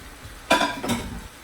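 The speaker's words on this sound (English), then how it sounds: "you now stir it together" Two quick scraping stirs of a spoon through fried rice in a metal pot, close and clear, with a soft background hiss between strokes.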